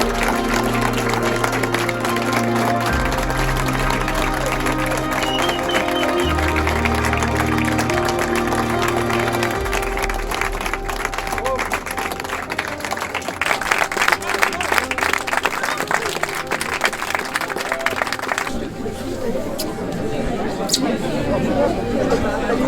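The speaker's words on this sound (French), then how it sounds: "on peut l'applaudir." A crowd applauds Hugo Franck, winner of the mayoral election in Roya, with clapping and chatter mixed with loud talk and a low hum, the noise shifting in intensity throughout.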